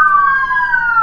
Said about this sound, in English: Oh, there's the fire truck.